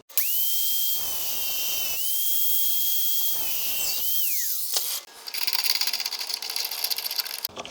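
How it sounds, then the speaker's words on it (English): A power cutting tool slices off a bolt during power steering work on a 1978 Corvette: a steady high whine runs for about five seconds with brief dips, then gives way to louder, harsher grinding until the end. "I'm just going to cut that off."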